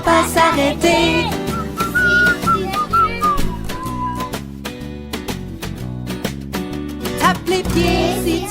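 Whistled melody from a French children's kindergarten song, loud and continuous over bright musical accompaniment.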